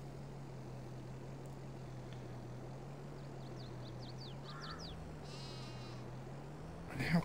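Farming Simulator 22 sheep give a few faint, scattered bleats over a constant low hum.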